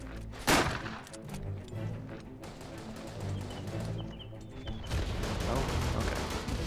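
Grenade blasts and gunfire in the World War I shooter Verdun, a loud burst near the start followed by continuous rattling shots and rumbling booms through the battle.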